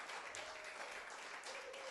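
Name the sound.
applause for the evening's preacher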